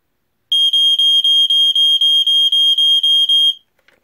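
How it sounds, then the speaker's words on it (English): Sears Early One (Gateway) 462.57471 smoke detector sounding its test alarm: a loud, piercing high beep pulsing rapidly about a dozen times over three seconds, then stopping. "So as you can hear, it sounds in a 5/6, and the LED flashes when the alarm goes off."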